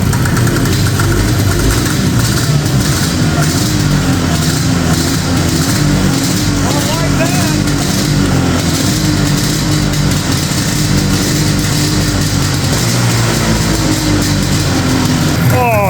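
A 1975 Suzuki Fury snowmobile engine fires after a shot of carb cleaner and settles into a loud, steady, buzzing idle, close and continuous for the whole stretch, with a person's voice mixed in under the engine noise.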